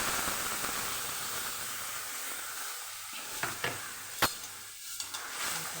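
Rajma being stirred in hot oil in a wok for a roll, a soft steady sizzle with a few sharp spoon clicks and scrapes against the pan near the end.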